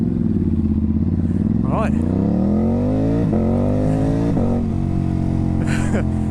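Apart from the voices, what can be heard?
Ducati Hypermotard 950 SP motorcycle engine with tuned exhaust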